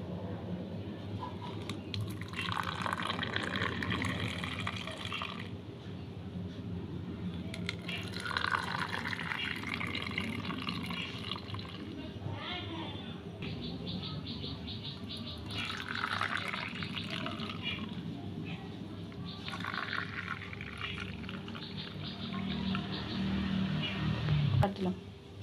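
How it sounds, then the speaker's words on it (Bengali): Watermelon juice is poured slowly into ice cream lolly moulds one by one, giving quiet trickling and dripping in several separate pours, with someone speaking throughout. "আইসক্রিমের মোল্ডের মধ্যে তরমুজের জুসটা এবার একে একে আস্তে আস্তে করে ঢেলে দেব।"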